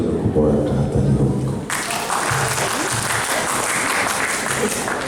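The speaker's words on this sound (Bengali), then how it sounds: "আমি চাইলেও সৌরভদার জন্য খুব বড় একটা হাততালি হোক" An audience at a Rabindra Jayanti celebration breaks into loud, sustained applause for Sourav, with a voice over the opening moments before the clapping fills the room.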